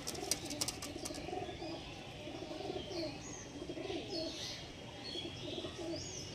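Black Diamond pigeons, a pair offered for sale, cooing steadily in soft repeated rolling phrases with occasional chirps close by, set against steady background noise and with no talking.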